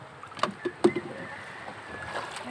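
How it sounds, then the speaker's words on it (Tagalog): A small fishing boat out on the water for hook-and-line fishing, with a few knocks and splashes against the hull near the start over steady faint water and wind noise. "Ito tayo sa bangka."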